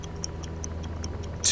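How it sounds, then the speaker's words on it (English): A bomb timer in the VR puzzle game I Expect You To Die ticks in a fast, even rhythm of sharp clicks, then ends on a louder burst. "No ticking is good ticking, as they say."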